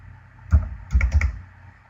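Keys tapped on a computer keyboard while a payment is entered, a few quick close clicks in two short bursts over a low background hum.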